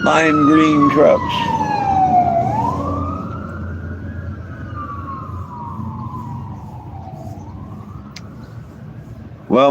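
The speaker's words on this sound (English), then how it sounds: "I hear them sirens take off out of there" Fire department siren wailing as the lime green trucks head out, a loud rising and falling tone that sweeps down, climbs again and slowly fades over a steady rumble of traffic, with a short burst of noise at the end.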